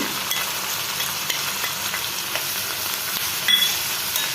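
Green chillies and spices frying in a pan for a Kerala tomato egg roast, a continuous even sizzle with faint stirring, no talking.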